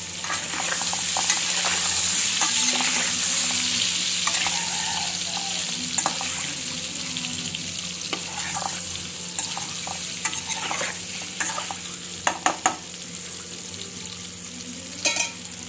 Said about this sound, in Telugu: మంచిగా కలిసేటట్టు తిప్పండి. మంచిగా ఉల్లిపాయ మగ్గనివ్వండి.